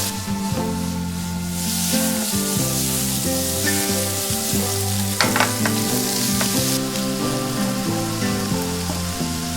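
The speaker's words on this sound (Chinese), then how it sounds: "接着用锅中的底油将蒜末和干辣椒爆香，再加入预制好的口蘑片、 虾仁儿，用中高火进行快速的翻炒。" Garlic, dried chili, sliced button mushrooms and shrimp stir-fry over medium-high heat in a wok, a loud steady sizzle broken by scraping and tossing of the spatula, with no voices.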